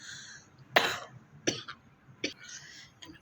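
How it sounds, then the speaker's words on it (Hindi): Three or four sharp, harsh coughs spaced about a second apart, close to the listener, over a quiet background with faint murmuring. "मेरे को बहुत तेज़ खांसी होने लगी"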